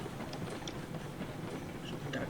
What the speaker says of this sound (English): before the train runs away